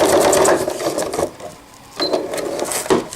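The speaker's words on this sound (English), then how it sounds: "always like to do a reverse stitch when I finish" A sewing machine runs a reverse stitch on a diaper cover, a loud close mechanical whirring that slows briefly mid-way and then resumes.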